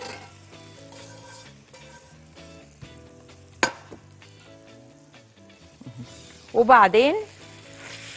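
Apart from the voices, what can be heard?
cauliflower and vegetables frying in a pan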